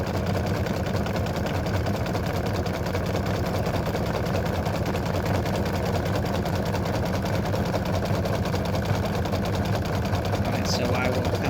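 Embroidery machine stitching a freestanding lace Halloween spider earring, giving a steady, dense mechanical whirr of rapid needle strokes that runs without a break from start to finish.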